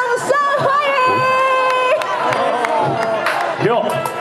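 A large outdoor concert crowd at a baseball stadium screams, cheers and claps loudly and continuously, with shrill shouts rising over the din and voices mixed in throughout.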